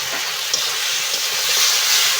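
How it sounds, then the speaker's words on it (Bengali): Boiled potato strips dropped into hot spiced oil, giving a loud, steady close-up sizzle and hiss that stays broad and even throughout, with no voices. "সিদ্ধ করে রাখা আলুটা দিয়ে দেবো এখানে"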